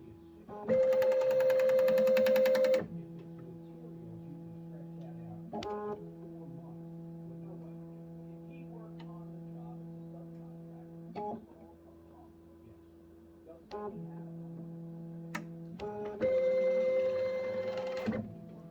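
A tray-swapping machine runs its start cycle: loud motor whirs open and close the sequence, with steady electrical hums and several clicks and short mechanical shifts between them.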